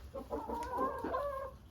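Hens and roosters clucking briefly while eating a snack, a short run of soft, nearby clucks and murmurs against a quiet background.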